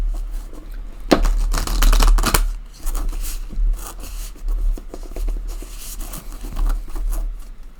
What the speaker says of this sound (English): That was the 4th shuffle.